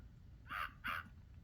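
Two short, harsh crow caws in quick succession, clear and fairly close over a low background hum, as two birds bump into each other in a Talking Tom and Friends mobile game.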